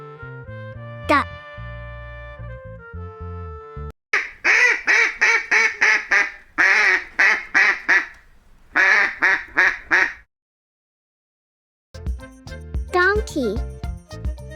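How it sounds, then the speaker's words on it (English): A duck quacks on a farm in several quick bursts of nasal calls, close and fairly loud, separated by short pauses, with other tonal sounds before and after. "Duck."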